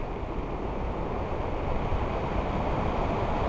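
Steady, rushing wind buffets the microphone, a dense low roar that swells slightly midway and never lets up.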